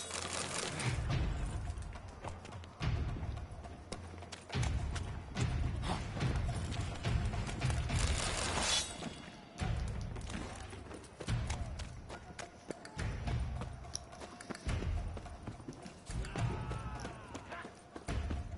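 Horses clip-clop along a road in the video game Witcher 3, rapid hoofbeats and rattling tack in repeated bursts amid busy game noise, with faint talk at times.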